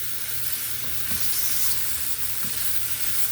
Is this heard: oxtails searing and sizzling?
yes